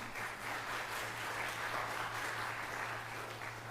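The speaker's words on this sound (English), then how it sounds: "the Academy members start clapping as soon as I mention Danita's name" An audience of church Academy members applauds at First United Methodist Church in DeKalb, Illinois, a steady, fairly distant wash of clapping with a low constant hum beneath.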